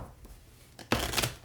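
Cards are shuffled during a tabletop war board game: a couple of soft taps, then a sharp, close riffle burst lasting about half a second.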